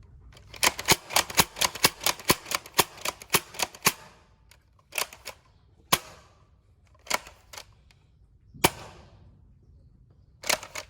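Rapid series of sharp plastic snaps from a Nerf Villainator toy blaster firing quickly, a fast burst followed by slower, spaced single shots.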